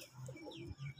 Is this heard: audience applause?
no